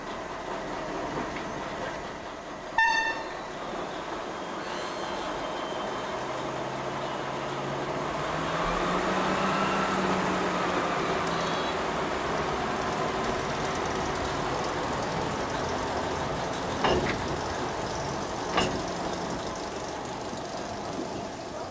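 A small DB shunting locomotive built by Orenstein & Koppel in 1963 runs steadily for a long stretch, a continuous engine drone and rail rumble with a few sharp clanks and metallic knocks along the way.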